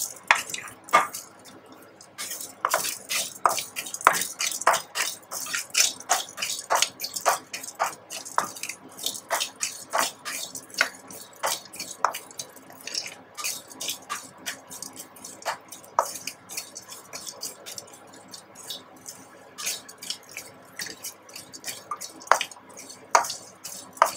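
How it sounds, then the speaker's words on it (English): Rice and Bengal gram dal stirred in a pan for thatte idly: scraping, clinking spoon-on-pan strokes repeat steadily throughout at close range, with no talking. "The same pan, I'm just adding the rice and Bengal gram dal."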